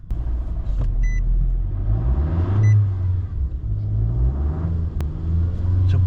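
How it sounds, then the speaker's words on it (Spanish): Nissan Altima engine cranks and catches, then idles with a loud, close low rumble and slight revving, with a couple of faint beeps along the way. "vamos a desconectar y prender el auto"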